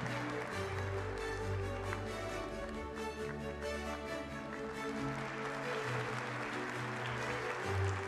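Steady, loud audience applause at an award ceremony, sustained clapping filling the whole stretch with a crowd murmur and a low music-like hum underneath.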